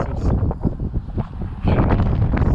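Gusty wind buffets the microphone outdoors during a half-marathon run, a loud low rumbling roar that surges and dips, growing stronger in the second half.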